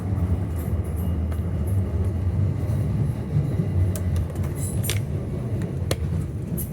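A Southeastern train bound for Charing Cross rumbling nearby, a steady low rolling drone with faint clicks and squeaks of wheels and carriage fittings.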